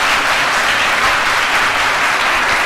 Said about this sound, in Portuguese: Suas palmas, Jesus